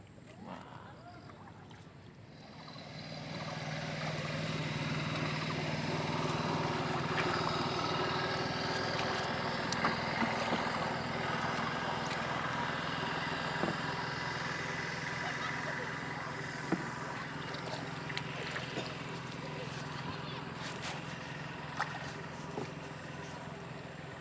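A boat out on Tamranga lake in Assam, a continuous low rumble of motion on the water with wind noise, steady and moderately close, with a few faint knocks.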